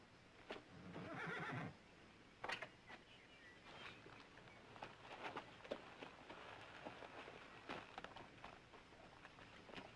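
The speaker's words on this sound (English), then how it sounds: "You ever see a better-looking cow pony?" A cow pony, a horse, gives a faint whinny, with scattered soft thuds and light pattering noises around it and no talk.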